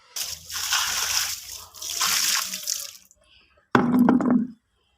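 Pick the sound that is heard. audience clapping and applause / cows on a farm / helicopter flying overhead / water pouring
water pouring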